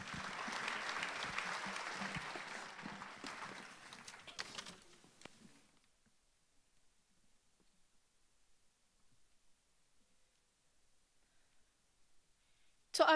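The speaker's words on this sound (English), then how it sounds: "Let's give her a warm round of applause." Applause at a junior high school graduation ceremony in Dubai, a dense crowd clapping for several seconds that fades out into near silence, with a brief sharp sound at the very end.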